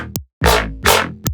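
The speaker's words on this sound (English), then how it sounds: "That's adding that nice dubstep bassy sound" A dubstep synth bass run through a reverb filter at 137 Hz with 35% resonance gives three heavy, chunky bass pulses, the last one shorter, each starting with a growl. A brief tonal blip sits between the pulses. No talking.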